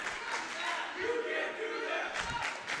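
At a Spartans girls' high school basketball game, an enthusiastic home crowd cheers and shouts in a steady, moderately loud roar, with a commentator's voice talking over it.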